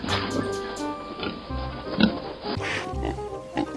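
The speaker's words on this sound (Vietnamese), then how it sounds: "Nó là một con lợn đấy các bạn ạ." A cartoon pig being washed gives a few short, low oinks and grunts, spaced apart, over steady background music.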